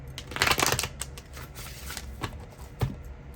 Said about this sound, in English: So I just separate them and I just shuffle them.